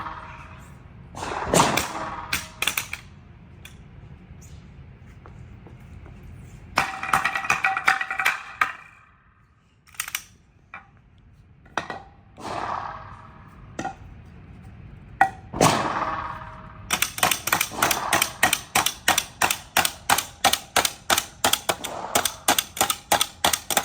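Rifle fitted with a Cyelee Optics Bull red dot fires a string of sharp cracks outdoors, scattered single shots first, then a fast rapid run of regular reports near the end.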